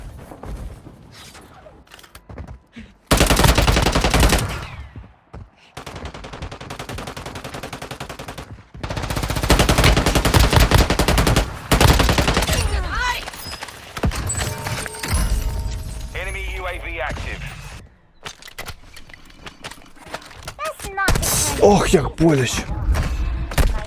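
Bursts of automatic gunfire and explosions in the mobile shooter Warzone Mobile, loud rapid volleys separated by quiet gaps, with game effects and someone speaking over the action.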